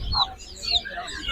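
A hen clucks briefly at the Fatullah wholesale duck and chicken market in Bangladesh, with a few short, close calls over faint market background noise.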